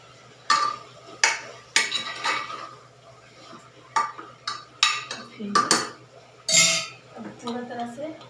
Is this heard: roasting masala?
yes